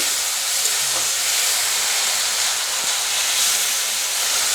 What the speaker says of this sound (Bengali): আমি আদা রসুন আর লঙ্কা বাটাটা দিয়ে দেবো এখন আমি ভালো করে